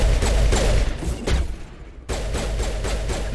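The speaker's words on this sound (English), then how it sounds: "Have some grenades." Loud, dense blasts and thumps from grenades going off in a Mass Effect firefight, a heavy rolling barrage that briefly drops away near the middle before surging back, with no voices over it.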